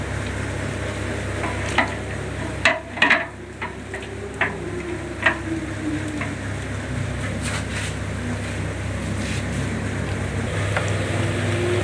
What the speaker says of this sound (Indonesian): Ini dikasih minyak, goreng dulu supaya nggak lengket.